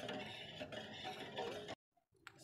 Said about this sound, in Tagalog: So, non-stop lang yung halo.